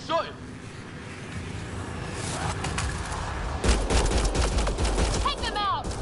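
Gunfire in the video game Mass Effect Andromeda: bursts of rapid shots crackle under game dialogue and voices, with a heavier volley in the second half.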